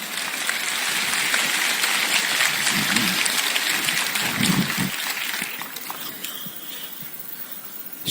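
An audience at a Hindi poetry recital breaks into sustained dense clapping that fades in the final seconds.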